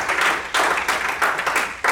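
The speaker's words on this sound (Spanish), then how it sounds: "Denle un aplauso al Señor" A church congregation claps in applause, a dense, fairly close burst of many hands that swells and dips in waves for a couple of seconds with no talk over it.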